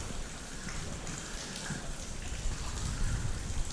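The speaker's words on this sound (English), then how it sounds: "Look at it out here. It's raining." Steady outdoor rain during a crappie fishing trip, a dense, even hiss of drops pattering on surfaces that swells slightly toward the end, with no talking.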